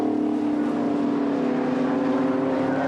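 A historic Lancia racing car passes on a circuit at a historic sports car club meeting, its engine a steady, loud drone held for the full few seconds without letting up.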